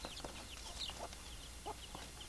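Chickens cluck softly in a backyard flock, a few scattered short clucks and chirps from birds at some distance over a low, steady background.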